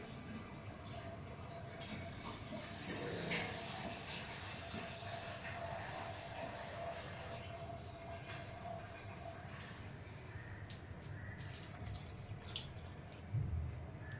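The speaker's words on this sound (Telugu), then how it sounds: "వాటర్ పోసి" Water runs steadily from a tap into lentils for a pressure-cooked broccoli dal, a continuous faint splashing flow with no speech over it.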